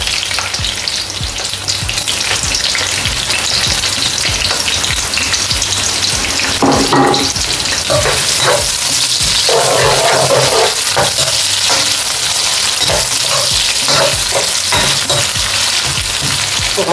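Chopped onions fry in about four spoons of hot oil in a pan for Kashmiri biryani, a loud, steady sizzle with occasional stirring scrapes throughout, no voices.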